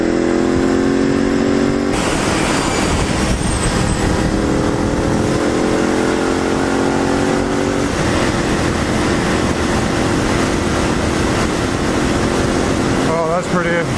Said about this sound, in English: Brand new SORA electric bike. Fully electric, guys.